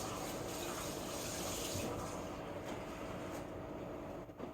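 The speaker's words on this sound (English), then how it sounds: "I'm gonna rinse the pan real quick, get rid of any residual sausage that was in there" A frying pan used for sausage being rinsed under running water, a continuous broadband rush of the tap and splashing that fades slightly toward the end.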